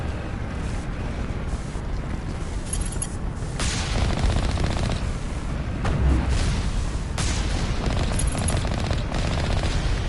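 Rapid rocket launches and explosions from a Mass Effect firefight roar continuously and loudly, with heavy booming bursts and sharp cracks layered over a dense rumbling barrage.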